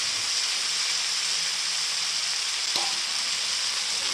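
Spice masala fries in hot oil in a wok, giving a steady, close crackling sizzle with one brief clink of a utensil partway through.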